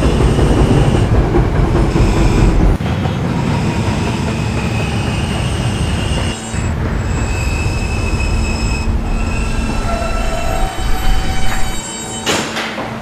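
An R subway train in the Roblox game PTA Subway runs steadily at night, its loud continuous wheel rumble overlaid with squealing wheels and a brief high screech near the end.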